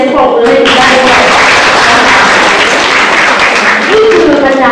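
Applause from a crowd fills the space continuously, with voices mixed in at the start and again near the end.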